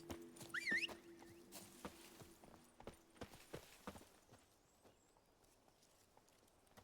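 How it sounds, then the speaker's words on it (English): Horse hooves clip-clopping in The Witcher 3, a steady run of close, crisp hoof strikes that thins out and softens toward the end, with a brief bird-like chirp early on. "Horsey."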